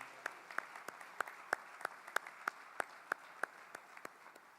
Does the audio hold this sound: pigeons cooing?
no